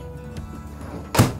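An oven door thuds shut once near the end after a quiet stretch of faint clatter, as a tray of caramel butterscotch pull-apart bread goes into a preheated oven.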